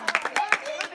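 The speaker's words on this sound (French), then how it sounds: "On acclame pour les filles." Several people clap in a classroom, a short run of sharp, uneven handclaps close by with no talk.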